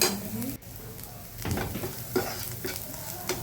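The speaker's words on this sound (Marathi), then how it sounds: "7-8 मिनिट ब्राउनिश होईपर्यंत व्यवस्थित असं ते परतू घ्यायचं" Khichdi ingredients sauté in a pan while being stirred, with close scraping strokes over a steady sizzle and an occasional clink of the utensil against the pan.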